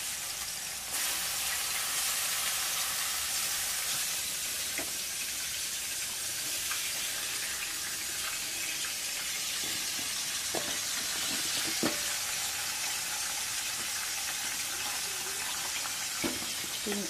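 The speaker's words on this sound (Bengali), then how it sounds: "আমি এখন রোস্টের মশলা কষাচ্ছি" Roast spice paste of hand-ground cumin, poppy seeds and other spices fries in a pan with a steady, close hiss, broken by occasional stirring scrapes and taps.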